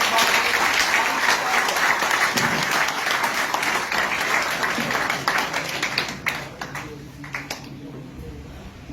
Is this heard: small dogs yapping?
no